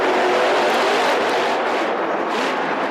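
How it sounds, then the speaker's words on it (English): Monster truck engines roar at an entertainment and sports arena as a loud, dense, continuous rumble that fills the space with no pause and no speech. "the noise from these monster trucks can be downright scary"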